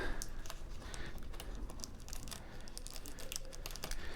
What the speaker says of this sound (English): I'm going to get this piece of tape up and this piece of tape up and this piece of tape up